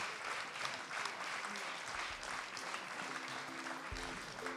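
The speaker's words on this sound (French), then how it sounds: "Et on applaudit très fort parce que c'était un très bel événement qui a eu énormément d'impact." A sports awards night audience in Digne-les-Bains claps loudly and steadily, a dense, continuous wall of applause with no break across the whole stretch.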